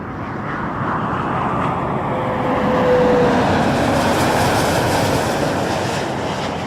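A jet airliner takes off from runway 05 at Toronto Pearson: a steady, broad roar heard from a distance that swells slightly midway and then eases off, with no voices.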